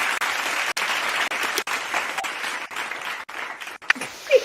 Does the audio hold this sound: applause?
yes